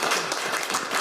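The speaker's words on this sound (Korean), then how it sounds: "여러분 큰 박수 부탁드립니다." Audience applause at a parliamentary seminar on delayed PTSD and veterans' policy, a brief, dense wash of many hands clapping at close to moderate distance with no speech.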